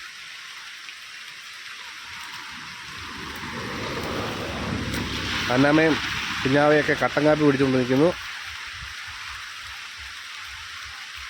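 Steady rain falls around a small roadside shop in Kottayam, Kerala, a constant hiss of drops that continues while someone speaks over it in the middle.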